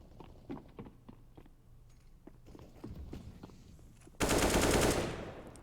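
Rapid gunfire bursts from a Counter-Strike match on the Mirage map, sharp clustered shots with footstep-like taps, ending in a loud, dense burst of shooting near the close.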